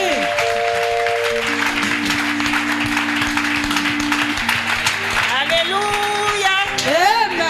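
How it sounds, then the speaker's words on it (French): Congregation clapping in a church, steady applause running under a sustained chanting or singing voice, with a rising musical tone toward the end. "It's like you are clapping for me."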